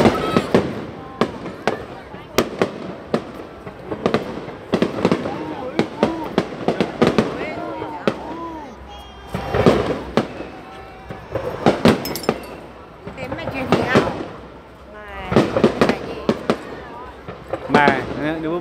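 Fireworks at the Hoa Ban flower festival crack and boom in irregular bursts and rapid strings, some sharp and close, with people talking and reacting throughout.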